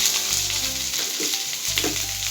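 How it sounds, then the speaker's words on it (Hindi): Chopped onions frying in two tablespoons of oil in a kadhai, a steady bright sizzle that runs throughout with soft stirring scrapes, close and fairly loud, with no talking. "इसमें आपने 2 टेबलस्पून ऑयल डालना है। साथ ही आपने इसमें 4 अदद चॉप प्याज डालना है।"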